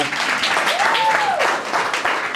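An audience applauds a speaker introduction at an evening talk event, the clapping fairly loud and continuous, with a voice talking over it.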